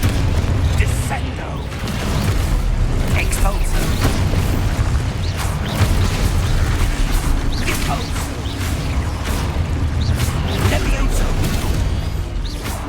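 Spell explosions in the Hogwarts Legacy video game: a continuous, loud barrage of booming blasts and crashes with whooshing bursts, and a voice talking over the clamour.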